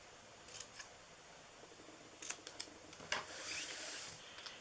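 Scissors cutting out a paper die-cut piece for a Valentine's heart treat box, a few crisp separate snips close to the mic in a quiet room, followed by a longer rustling cut near the end.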